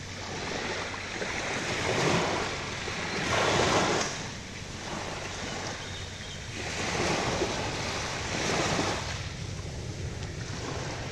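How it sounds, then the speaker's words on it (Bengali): Calm sea waves washing onto the shore, soft surging swells that rise and fall in slow rhythm about every two to three seconds, with wind buffeting the microphone and no voices. "সাগরটা আজ শান্ত"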